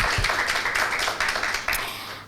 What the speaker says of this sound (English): So a big applause to Ronaldo.